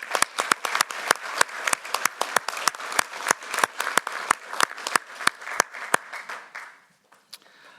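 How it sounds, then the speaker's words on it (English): Applause for award winners at a meeting: a room of people clapping in a steady, dense burst that fades and thins toward the end, with a few last isolated claps. "I think a round of applause for all of our this year's winners"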